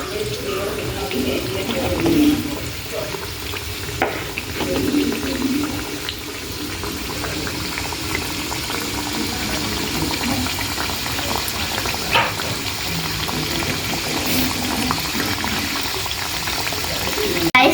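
Parippu vada, lentil fritters, frying in hot oil give a steady, dense bubbling sizzle that runs throughout, fairly loud and close, with faint clinks and no clear talk.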